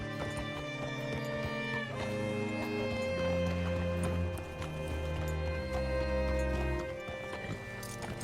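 Rhythmic hoof clip-clops of a horse walking in the video game Red Dead Redemption 2, steady and fairly close, over a bed of sustained music with no talking.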